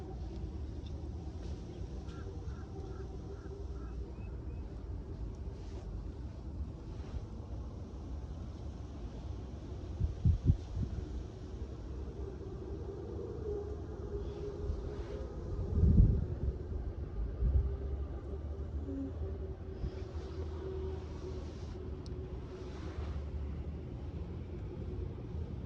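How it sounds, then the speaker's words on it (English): Strong wind gusting outdoors, heard as a low rumbling buffet across the microphone that swells into brief, louder gusts a few times over a steady windy background. "So windy."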